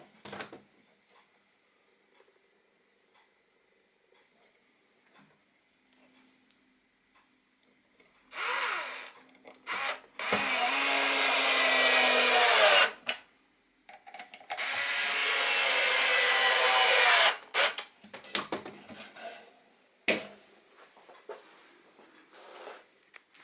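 Power drill driving screws into scrap wood for a toolbox build in a garage, two long loud whirring bursts with short stops and starts between them, nearly alone with no talk over it.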